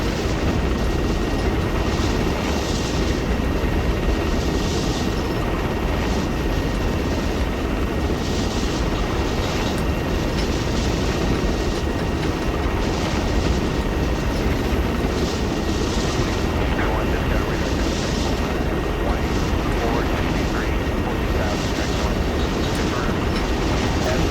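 A helicopter in the video game Arma 3 makes a continuous, loud rotor and engine roar with faint rhythmic chopping that stays steady throughout, with no talk.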